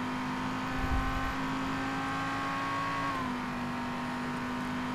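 Race car engine in the Race Driver GRID video game holding a loud, steady high whine at speed, with a brief low thump near the start and a slight drop in pitch about two thirds through, no talk.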